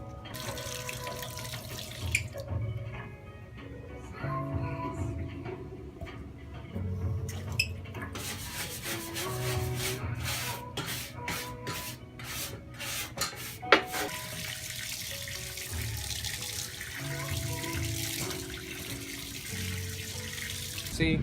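Scrubbing and rinsing paint remover residue off a stripped car body panel with bleach soap, with running water and steady rubbing throughout, a few sharp scrape bursts in the middle, and no voices.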